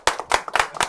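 A small group claps hands briefly at an informal author talk, four or five distinct, uneven claps close by over less than a second.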